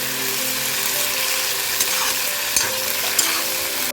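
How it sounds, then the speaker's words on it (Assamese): Meat fries in hot oil in a wok, a loud, continuous close sizzle with a few sharp clinks of a utensil stirring against the metal. "মই প্ৰথমতে কেৰাহীখনত তেল দি পেলাই গৰম কৰি লৈ পিছত মাংসখিনি ভাজি লৈছোঁ"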